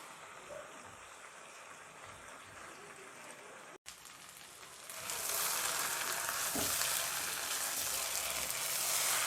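Cabbage and potatoes frying with pork in a pan after their released water has cooked off, a steady sizzle that swells louder partway through and holds as a dense, close hiss with no talking.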